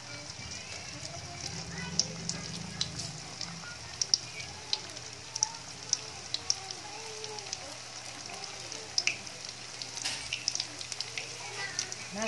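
Lumpiang toge, bean sprout spring rolls with corned beef, frying in hot oil over medium heat, a steady faint crackling sizzle with scattered small pops and a quiet voice talking over it.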